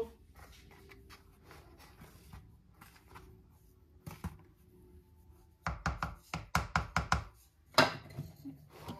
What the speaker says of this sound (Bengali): এই চামচটা দিয়ে মিক্স করে নিই